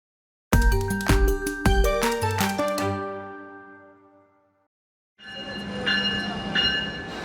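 Amtrak train bell and horn-like tones on Long Island near Ronkonkoma: a loud sequence of ringing, struck tonal hits that decay into silence, followed by a steadier rolling rail noise with sustained tonal notes, with no speech.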